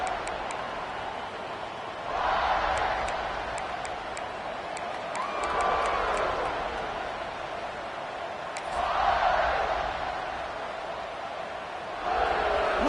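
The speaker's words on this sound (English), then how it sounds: "Listen to the crowd energy here in the early going." Distant crowd noise at a football game, swelling in several waves of cheering over a low murmur, with faint sharp ticks scattered throughout.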